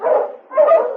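Two short whimpering cries from a dog, close and fairly loud, each a soft rising-and-falling whine with a brief gap between them.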